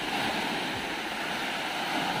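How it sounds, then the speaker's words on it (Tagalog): Sea waves wash in a steady broadband roar with wind, heard up close from a small boat, continuous and fairly loud throughout the short stretch. "Alon-alon lang yan."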